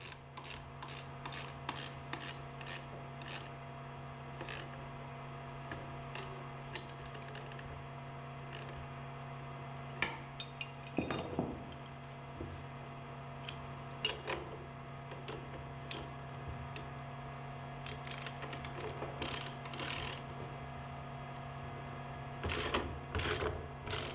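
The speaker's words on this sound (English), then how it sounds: "Tighten the 9/16 inch bolt and the two 5/16 inch bolts to maintain alignment" Bolts on a rotor blade retention strap assembly tightened with a ratchet wrench, rapid clicking bursts of the pawl repeating through the clip over a steady mechanical hum, close and fairly quiet, with a louder stretch of rattling near the middle.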